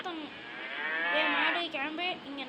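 A cow in a block-building video game moos in one long, drawn-out call with a wavering pitch, loud and close, with no talking over it.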